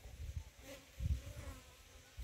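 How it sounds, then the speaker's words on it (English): Bees buzzing close by near snake plants in a compound, a low droning hum that swells and fades in a couple of loud bursts, with no talking. "Just hear the sound of the bees from behind here"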